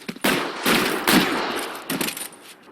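Gunfire in a shootout from the police video game L.A. Noire, dense repeated bursts of loud rapid shots filling nearly the whole stretch, up close with no talk.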